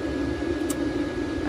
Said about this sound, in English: The cooling fan has now kicked in.